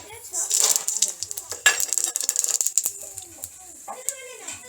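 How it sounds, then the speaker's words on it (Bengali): Black mustard seeds with a chilli crackling in hot oil in a pan, sharp scattered pops and sizzles mixed with utensil clatter, while a person talks over it. "কালো সর্ষেটা ফাটতে শুরু করেছে।"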